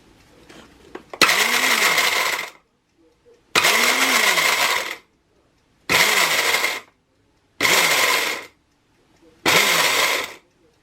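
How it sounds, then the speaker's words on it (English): A blender whizzing nutritional yeast, garlic powder and salt in five loud bursts of about a second or so each, separated by short silent pauses, the motor whining up as each burst starts. "which is going to be whizzed up in the blender"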